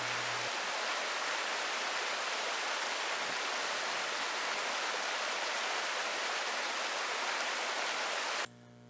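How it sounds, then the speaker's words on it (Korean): A mountain valley stream near Jingwansa temple on Bukhansan rushes in a dense, steady wash of water, loud and close, then cuts off abruptly just before the end. "시원하게 흐르는 진관사 계곡물을 감상하며 우렁차게 흐르는 계곡물 소리를 들으며 진관사로 내려가겠습니다"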